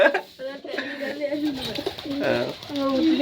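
Pigeons of several kinds, including small young ones, cooing near a home with many pet animals, repeated soft throaty coos rising and falling over about three seconds, with some voice-like sound mixed in.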